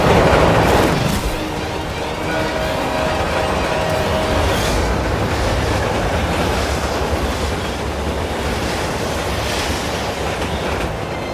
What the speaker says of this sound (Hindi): ट्रेन अपनी तरफ आ रही है।